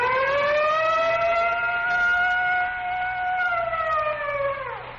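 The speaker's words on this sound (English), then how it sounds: "Whenever you hear the siren and bell," A fire siren on a 1932 Texaco Fire Chief radio program gives a loud, sustained wailing tone that holds steady, then winds down at the end. It plays alone, with no voices.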